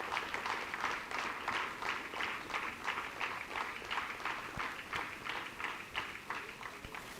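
An audience applauds at a college foundation day award ceremony, a steady, continuous round of clapping with a regular pulsing rhythm throughout, no voices standing out.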